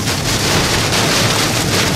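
A hailstorm over Oklahoma City gives a dense, continuous roar of hail and rain pelting surfaces, with gusty wind buffeting the microphone. It is loud and steady throughout, with no speech.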